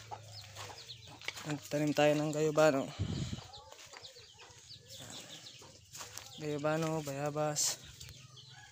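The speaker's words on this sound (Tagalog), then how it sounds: "Yan yung mga manok natin." Chickens cluck and call softly in the background while someone talks over them, with a brief rustle between his phrases.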